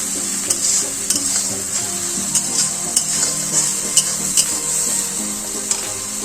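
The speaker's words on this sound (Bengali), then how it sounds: "এবার এটা একটু লাল লাল করে ভেজে নিচ্ছি।" Raw jackfruit pieces fry in a pan with a loud, continuous sizzle, punctuated by regular sharp taps and scrapes of a spatula stirring them up close, no speech.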